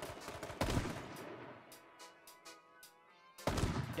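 Gunfire in the survival shooter H1Z1 Just Survive: two loud, sharp shot bursts, one near the start and one near the end, with quieter repeating reports and rattling echoes in between, all without speech.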